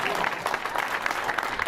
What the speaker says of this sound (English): Give Cheech a good round of